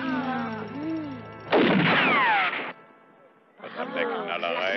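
A gunshot cracks in a German-dubbed western film, one loud burst landing between stretches of dialogue, with a second noisy burst following after a short lull while voices carry on.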